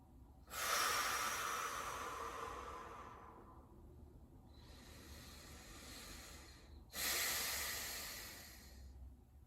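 Slow, deep breaths taken while holding a stretching exercise, two long airy inhales each easing into a softer exhale, close and quiet with no talking.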